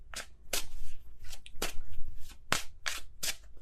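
Tarot cards being shuffled by hand: a series of crisp riffling and slapping card sounds in irregular bursts, close and moderately loud, with no voices.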